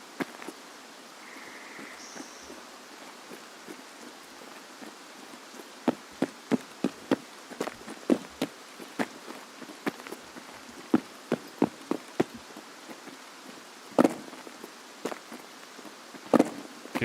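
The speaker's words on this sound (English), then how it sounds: "Just rain again." Rain pattering in a sniper-focused PvP shooter game, a soft steady hiss under sharp scattered drops and ticks that bunch into quick runs, with no talk.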